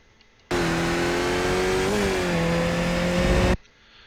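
A Skip Barber race car in iRacing at Circuit of the Americas West on cold tires drones at steady high revs, with a brief pitch dip as it shifts up to third, then carries on loud and continuous.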